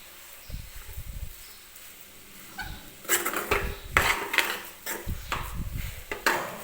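A spoon stirs soft moong dal halwa, just sweetened with sugar, in a metal pan: a few quiet knocks at first, then a run of close, irregular scraping and clinking strokes that grows busier, with no voices.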